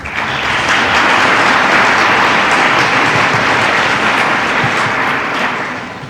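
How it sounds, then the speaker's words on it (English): A large audience at an evening lecture event applauds singers after their songs, a loud, sustained wash of clapping that holds steady for several seconds before easing slightly at the end. "maybe they can get a little applause extra"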